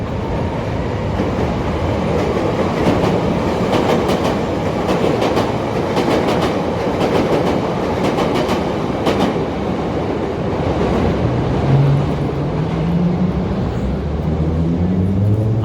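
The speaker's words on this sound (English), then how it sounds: "And we got another train now." An elevated train rumbles past on Wabash Avenue in downtown Chicago, a loud, steady roar with rattling clatter over the full stretch, joined near the end by a rising tonal squeal, with street traffic mixed into the din.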